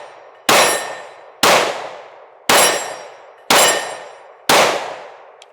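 Five evenly spaced shots ring out from a Smith & Wesson Shield Plus Carry Comp pistol aimed at a tree outdoors. Each report is sharp and loud and decays with a ringing tail, about one shot per second, with no talking.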